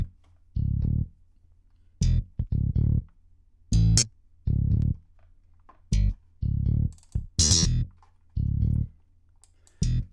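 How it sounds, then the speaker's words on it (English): A funk synth bass line played through an Ableton amp bass preset with fuzz, heard alone as short, punchy, distorted notes in a syncopated pattern with gaps between phrases. "So the bass line on its own sounds like this"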